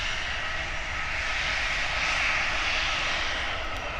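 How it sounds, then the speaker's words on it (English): Steady, continuous roar of an EasyJet airliner's engines near the airport, a loud broadband hiss and rumble holding constant throughout with no voices. "Is this plane about to take off?"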